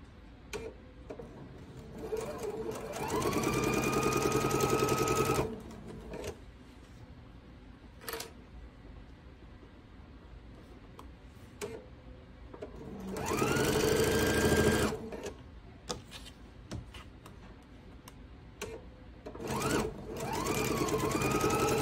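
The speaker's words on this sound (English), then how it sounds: "So let's go ahead and sew this piece." A sewing machine stitches a quilt piece in several separate runs, each a close, rapid mechanical whir lasting a few seconds, with quiet clicks and handling noises in the pauses between.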